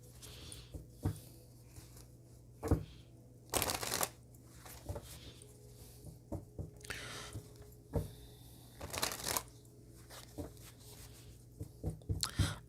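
Tarot cards shuffled and pulled from a deck, a series of quiet, soft riffling bursts and short flicks at irregular moments, the longer fuller shuffles standing out over a low steady room hum.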